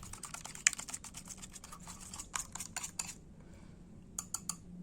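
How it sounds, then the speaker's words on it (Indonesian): A whisk beating eggs into thinned bakwan flour batter in a bowl, giving a rapid series of light clicking taps against the side, close and quiet, with a brief pause before a few final strokes. "Tambahkan telur, kocok hingga tercampur rata."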